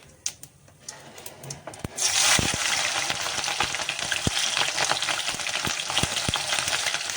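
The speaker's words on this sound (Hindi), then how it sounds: "हल्का सा फ्राई करना है, ज़्यादा नहीं, ताकि जो मिर्च का जो फ्लेवर है हमारे ऑयल में चला जाए" Chopped chillies and ajwain hit hot oil and burst into a loud, steady sizzle with scattered pops and crackles, following a few quieter clinks and stirs at the start.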